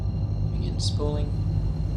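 A spaceship's quantum drive spools up in the video game Star Citizen: a steady low droning hum with a brief swelling whine midway, continuous throughout.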